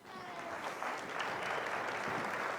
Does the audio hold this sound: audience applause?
yes